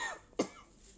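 A single sharp cough bursts out near the mic, brief and loud against a quiet room, then fades back to stillness.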